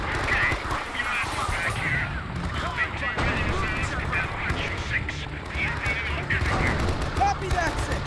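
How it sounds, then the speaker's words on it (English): Heavy mortar and gunfire in the Vietnam War shooter Men of Valor, with Marines holding Hill 861: a dense, continuous roar of close blasts and crackling shots, with shouting voices mixed into the battle noise. "They're walking mortars into our position!"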